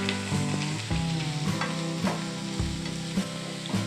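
Chopped green chillies and salt sizzle and fry in a pan while being stirred, with repeated scraping strokes of a spoon at a steady rhythm over a constant hiss, close up and with no voices.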